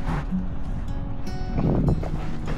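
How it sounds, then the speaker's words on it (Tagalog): Breezy coastal wind at a beach resort buffeting the microphone in low rumbling gusts, strongest in a burst past the midpoint, with faint background voices underneath. "Mahangin."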